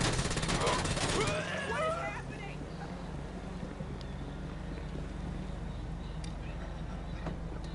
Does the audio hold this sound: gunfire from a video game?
yes